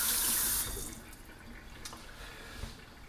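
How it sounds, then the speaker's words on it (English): Tap water runs and splashes as hands are washed under it, fairly close, strongest in the first half second and then quieter, with drips and small splashes continuing. "I'm gonna wash my hands"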